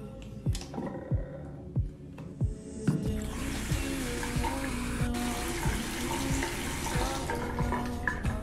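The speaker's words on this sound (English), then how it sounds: "So I'm gonna go shower." Steady rush of running shower water fills the background at close range, with rhythmic low thumps and clatter in the first few seconds before the spray takes over and continues evenly.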